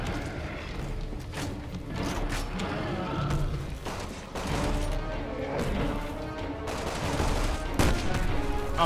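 Gunfire in the video game Resident Evil 6, with sharp shots mixed into dense, continuous action noise and mechanical clatter, fairly loud throughout, with a brief voice near the end.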